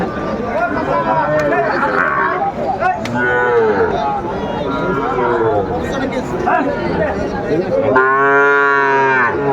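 Sahiwal cattle moo repeatedly amid a busy livestock-market crowd of chattering voices in Sylhet, with one loud, drawn-out moo close by near the end.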